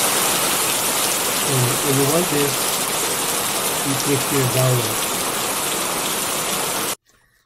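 Heavy stock rain sound effect, a steady broadband hiss of downpour that plays loud and continuous, with a person talking over part of it, then cuts off abruptly near the end.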